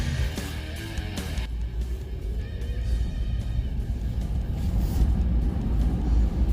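A 2023 Ford F-150 Lightning electric truck accelerates through a snowstorm on a slippery road, with a steady low rumble of tyres and motion that builds gradually.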